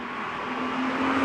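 Toyota GR Supra sports car (2023) exhaust note, a steady, fairly loud engine drone that holds an even tone and swells slightly toward the end, with no talking.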